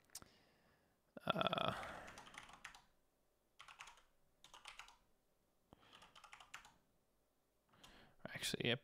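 Computer keyboard typing in scattered bursts of crisp, close key clicks separated by quiet gaps, quiet overall, with a short vocal sound at the start of the typing.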